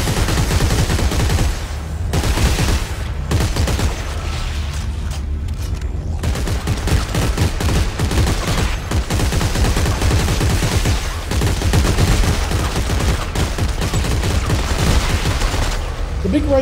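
A big rifle fired in Dead Space 3 co-op play against tentacle monsters, loud sustained bursts of close gunfire with booming impacts running almost without pause, while players talk over the action.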